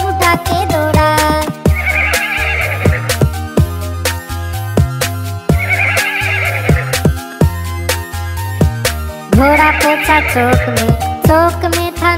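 Horse whinnies recur about every four seconds within a loud, bouncy Hindi children's song, sitting on top of the steady beat and instrumental backing.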